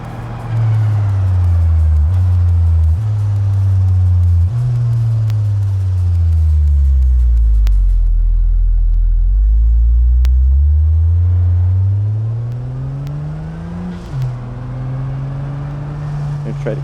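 Virtual car engine in the BeamNG racing simulator revving continuously, its low droning pitch climbing and dropping through repeated gear shifts with deep rumbling bass, loud and close throughout.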